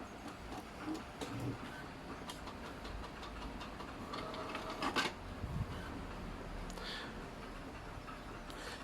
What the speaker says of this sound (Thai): นี่นะครับผมจะสั่งพิมพ์รูปนะครับผม